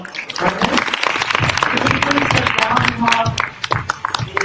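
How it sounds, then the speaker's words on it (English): An audience at a digital-marketing event breaks into a loud round of applause, mixed with voices and some indistinct talk throughout. "Everybody, let's give a round of applause."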